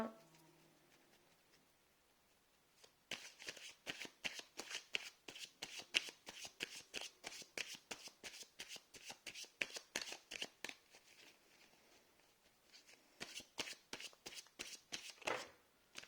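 Tarot cards shuffled by hand in a fast, even rhythm of crisp close slaps during a reading, running for many seconds after a quiet start, pausing briefly, then resuming for a final flurry, with no talk.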